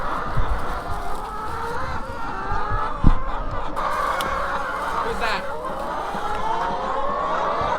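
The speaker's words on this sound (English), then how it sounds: "Thank you, chicken, nice and warm." Laying hens in a coop cluck and murmur steadily around a person collecting eggs from their nests, close and continuous with a sharp squawk partway through, and a voice talks briefly over them.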